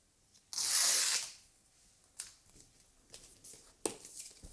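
Paper pull tabs on an Apple Magic Keyboard box are torn open: a loud, close ripping strip followed by a few softer scrapes and rustles of paper and cardboard.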